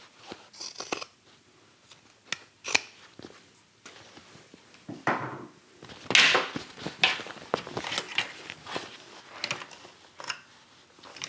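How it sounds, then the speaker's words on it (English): Scissors trim the boxed corner seam of a fabric bag, a series of sharp snipping and crunching cuts at irregular intervals, close and fairly quiet. "Now you do want to trim this boxed corner seam"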